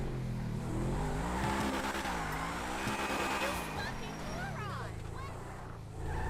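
A car driving in GTA V, its engine humming and revving with rising and falling pitch and some tire noise, moderately quiet with someone talking over it.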